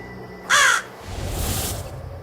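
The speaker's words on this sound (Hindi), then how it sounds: "ये क्या कौवा सा उड़ रहा है" A crow caws once, loud and close, in a spooky mansion escape game, followed by a softer low rumbling ambience.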